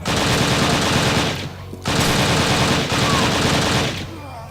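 Loud, sustained automatic gunfire in the shooter Übersoldier, rattling in long dense bursts broken by two brief pauses.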